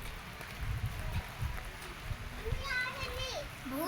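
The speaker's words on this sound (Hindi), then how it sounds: "गिरने लगा पानी" Heavy rain comes down in a steady hiss under a dark cloudy sky, with children's voices talking over it and bird calls rising near the end.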